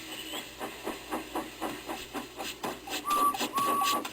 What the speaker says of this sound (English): they lit his fire, made lots of steam, and Edward puffed away.